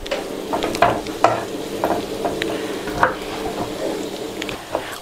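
Onions frying in a pan over low heat, a steady soft sizzle punctuated by repeated scraping stirs and light clinks of a utensil against the pan, close and alone.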